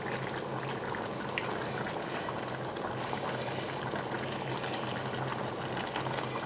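Veal paupiettes and vegetables simmering in a pan on medium heat, a soft continuous bubbling and gentle sizzle, close and fairly quiet, steady for the whole stretch without voices.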